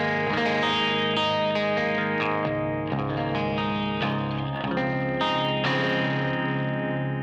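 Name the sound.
electric guitar through Myth Drive Klon Centaur emulation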